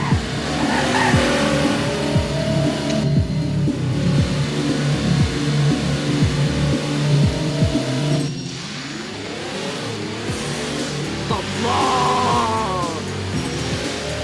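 Car in the Roblox game Driving Empire revving hard and accelerating through repeated gear shifts, with loud rising and falling engine pitch, then a fresh run-up after a brief dip, under light tire noise.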